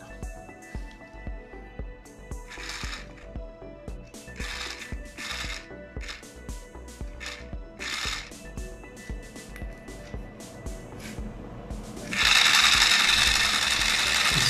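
A 3D-printed high-torque, low-RPM gearbox runs freshly greased, giving a steady close mechanical whir with rapid gear ticking, then turning louder and harsher near the end.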